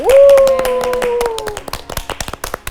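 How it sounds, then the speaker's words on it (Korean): Church congregation clapping briefly after a call to applaud during a Bible lecture, a few scattered hand claps rising over a sustained sung or voiced tone that fades, then sparse taps. "박수 한번 칩시다."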